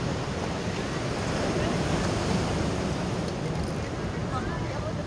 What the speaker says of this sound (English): The sound of the waves is so loud, and it crashes all around.